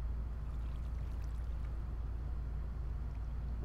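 Waterfall flowing in the Minecraft video game, a steady low rushing and churning wash of water that holds constant throughout without pause.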